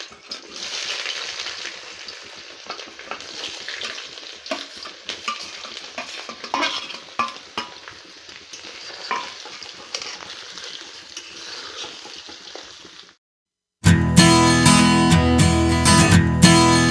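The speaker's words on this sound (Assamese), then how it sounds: "এতিয়া মই এয়া পনীৰখিনি ভাজি ল'ম।" Paneer pieces fry in hot oil in a pan, a steady crackling sizzle with occasional stirring clinks, running alone for about thirteen seconds before music abruptly takes over.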